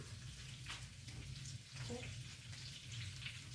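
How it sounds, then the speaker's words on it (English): Sausage frying in a pan in a home kitchen alongside peppers and onions, a steady low sizzle and crackle heard from a little distance, fairly faint and unbroken. "you can hear my sausage is starting to cook back there"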